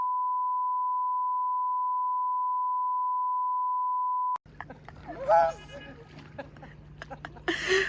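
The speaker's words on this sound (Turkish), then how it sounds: "Buraları çok bipleyeceğiz." A steady, sustained censor bleep tone runs for about four seconds, then cuts off abruptly into background chatter and people talking aboard a boat.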